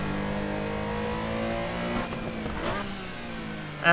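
A race car engine in the driving game Assetto Corsa revs with a steady mid-pitched drone, rising through two quick throttle blips before a brief burst at the end, loud and alone.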